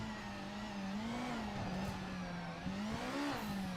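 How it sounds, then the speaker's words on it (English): GT500 race car with turbo in the Project Motor Racing video game at the Nordschleife, engine droning steadily at mid pitch with slight rises and dips and a faint turbo whine layered over it. "Oh, turbo noises."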